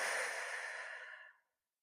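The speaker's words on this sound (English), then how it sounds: "Take a nice deep breath in and out." A single long, deep, breathy exhale during a breathing exercise in a calisthenics workout, close and airy, fading out to silence after about a second and a half.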